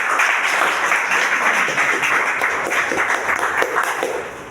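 Seminar audience gives a hearty round of applause for newcomers, a loud burst of clapping that holds steady and then begins to taper toward the end.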